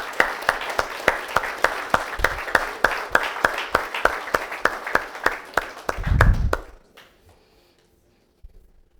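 An audience claps in a steady, rhythmic beat for several seconds, with a low thump near the end before the clapping fades to near silence.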